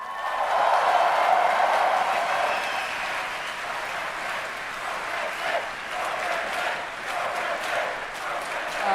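A large crowd at a League of Legends stage match in Germany cheers and applauds in a sustained, loud roar that peaks early, then settles into a steady wash of clapping and shouting.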